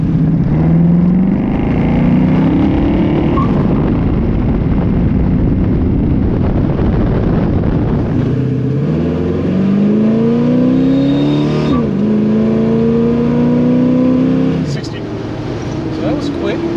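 A fuel-injected small-block 355 V8 in a 1968 Chevrolet Camaro RS accelerating on a test drive, its loud engine note climbing through the revs, dropping at a gear shift, then rising again, with voices talking over it.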